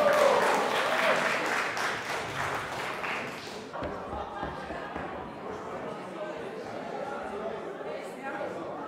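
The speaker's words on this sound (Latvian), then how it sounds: "Aplausus!" An audience at a Christmas charity auction claps with a dense burst of applause that fades after a few seconds into murmuring crowd chatter and speech.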